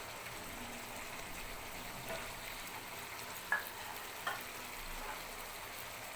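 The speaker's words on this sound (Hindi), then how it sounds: "इस टाइम पे डालेंगे घी।" Ghee heats in a hot pan for biryani, giving a faint, steady low sizzle with a couple of small sharp clicks from the pan.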